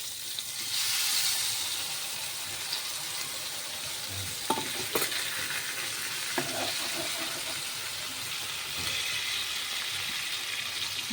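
Eggplant fries in hot oil with chili powder and turmeric, giving a steady close sizzle and hiss with a few scattered stirring knocks.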